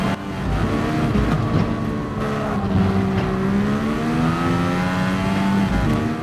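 Turbocharged F1500T-A race car in GT Sport, its engine droning loud and steady throughout, pitch climbing and settling through revs with a brief tire squeal edge, heard alone from the driver's view.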